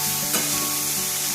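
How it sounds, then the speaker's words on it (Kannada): Onions and spices fry in a pan for a field bean sambar, giving a loud, continuous close sizzle with a faint scrape of stirring. "ಚೆನ್ನಾಗಿ ಫ್ರೈ ಮಾಡ್ಕೊಳ್ಳೋಣ"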